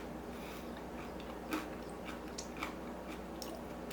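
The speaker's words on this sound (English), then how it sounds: "You hear that crunch?" Homemade healthy pizza crust being chewed: faint, scattered crunches and bites sit under a steady wash of background noise, close to the mouth.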